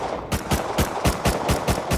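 AK rifle fire in the survival game Rust, a steady string of about eight sharp, evenly spaced shots, loud and close, with no talking.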